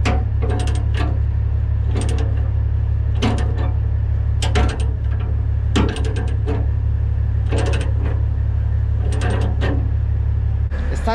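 A chain binder ratcheting to tighten a chain that lifts a trailer axle, giving bursts of rapid metallic clicks in repeated strokes over a loud constant low hum, close up with no talk.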